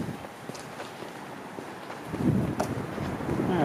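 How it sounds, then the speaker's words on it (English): Outdoor wind buffets the built-in microphone of a Lumix GX85 camera with a low, rumbling roar that swells louder partway through and stays steady to the end, with no voices. "Alright, well that's a bit of a wind blast."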